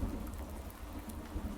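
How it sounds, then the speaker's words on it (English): Rain patters inside a shed in a farming video game, a soft steady hiss with occasional low rumbles, fairly quiet and continuous. "we got a little bit of rain when you first walk into the shed."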